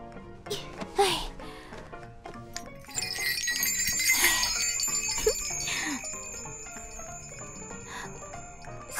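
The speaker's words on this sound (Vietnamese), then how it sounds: "mình vội rung chuông làm gì chứ?" A small bell rings in a drama scene, bright tinkling tones sustained over several seconds with a lingering ring, mixed with other sounds and background music.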